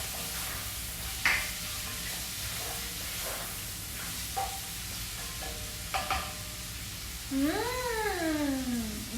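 Mung beans and vegetables stirred in a sizzling pan, with steady frying hiss and occasional scraping knocks of the utensil, close up; a cat meows near the end.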